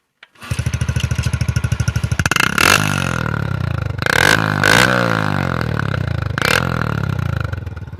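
A motorcycle fitted with a steel pipe exhaust insert starts up and settles into a loud, rapid, uneven idle, with several sharp revs that swell and fall back, close and dominant with no talk.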